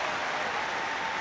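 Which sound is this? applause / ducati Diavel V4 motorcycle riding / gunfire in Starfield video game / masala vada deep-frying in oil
applause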